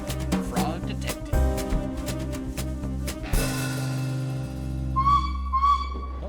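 Train whistle in the video game Frog Detective, two rising tonal blasts near the end sounding over steady game music.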